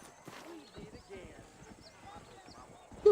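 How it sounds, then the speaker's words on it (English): A new horse arrives at a whistle in Red Dead Redemption, its hooves clip-clopping with a brief whinny beneath someone talking. "Agora você tem um novo cavalo. Ele virá como se assoviar."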